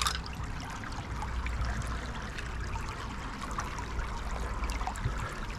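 Water trickles steadily through a city creek, a continuous close wash of burbling flow with no break and no voices.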